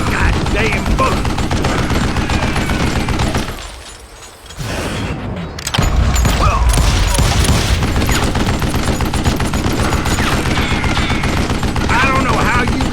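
Dense, rapid gunfire rattles through a shootout in the Western video game Call of Juarez: Gunslinger, loud and continuous with a brief lull midway before the barrage resumes, layered with other game sounds and some talk.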